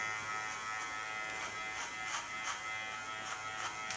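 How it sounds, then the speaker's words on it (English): Kiona electric hair clipper cutting a man's hair, a steady high-pitched buzz with faint repeated rasping strokes, quiet and close, with no talking. "My clipper is really flowing nicely."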